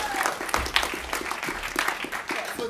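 An improv comedy audience applauds and cheers for the team Tales from the Crypt, brisk clapping with a few whoops from a small room crowd, close and lively, fading slightly near the end.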